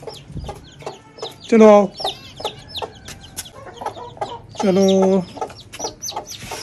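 Hens and chicks clucking on a farm with an Aseel hen nearby, two loud close bursts of clucking between quieter chirps, while someone talks and calls to them.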